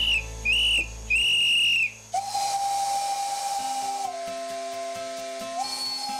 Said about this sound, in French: Coup de sifflet, panache de fumée et effluves de charbon nous plongent immédiatement dans un autre siècle.